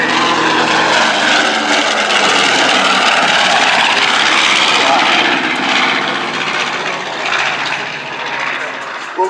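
The B-25J bomber Miss Mitchell roars loudly and steadily overhead at an air show, its engines holding a dense, continuous drone that fades slightly near the end while an announcer talks over it.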